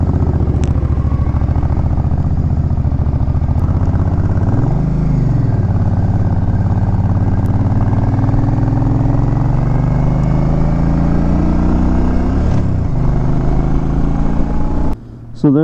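A 2002 Suzuki Intruder Volusia 800cc motorcycle pulls away nearby, its engine note rising and falling through gear changes before fading off, with a steady loud rumble throughout.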